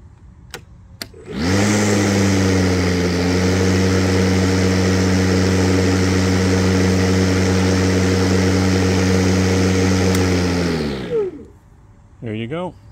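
Battery lawn mowers, an EGO and a Milwaukee with steel and aluminum decks, run during a noise level test, a loud steady mid-pitched hum starting abruptly, holding for about ten seconds, then spinning down.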